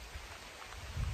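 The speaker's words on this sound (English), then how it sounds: "When you look on the city, rain fall hard." Rain falling hard on a farm, a steady hiss of drops with a low rumble that swells near the end, fairly quiet and brief, no voices.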